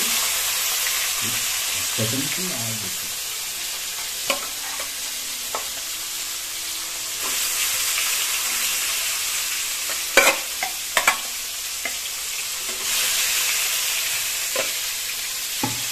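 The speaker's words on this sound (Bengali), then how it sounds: "আমরা দিয়ে দিয়েছি মাছগুলো, এখন তো ভেজে নেব।" Rohu fish frying in a hot pan of oil, a constant close sizzle throughout with scattered clinks and scrapes of a spatula and a few sharper taps near the end.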